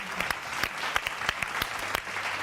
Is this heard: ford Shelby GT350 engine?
no